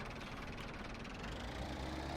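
A Highline Plus tractor in Farming Simulator 17 runs at a steady, close idle, its low diesel rumble continuous with a faint rhythmic knock and no talk.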